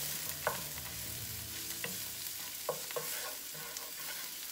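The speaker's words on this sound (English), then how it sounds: "We'll stir that shallot around" Finely chopped shallot sizzles in oil in a skillet, a quiet, steady frying hiss broken by soft scraping and tapping as a utensil stirs it.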